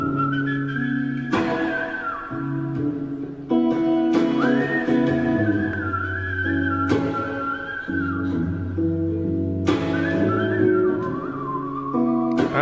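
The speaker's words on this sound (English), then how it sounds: "I don't think I've ever seen anyone whistle better than me." A person whistles a wavering melody in several phrases, with sustained notes rising and falling, set against a steady musical backing that shifts chords throughout.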